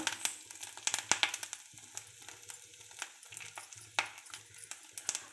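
Dried chilies, curry leaves and asafoetida frying in hot oil make a quiet, crackly sizzle, with intermittent pops, spatters and light stirring clatter of a utensil in the pan, heard alone.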